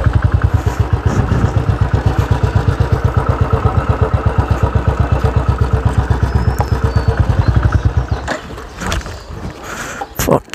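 A motorcycle rides along an open road during a lockdown, its engine putting out a loud, fast, steady thumping close by for about eight seconds before dropping away to quieter wind and rumble.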